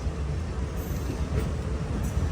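A train pulls into Nagore railway station at platform three, a steady, fairly loud rumble of rolling wheels and carriages with faint hiss above, continuous and without clear breaks.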